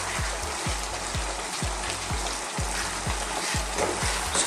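Tomatoes and garlic sizzle steadily in a pan while slow-cooking for an Italian garlic chicken and zucchini dish, a loud continuous fry broken by regular soft low thumps, with no talking.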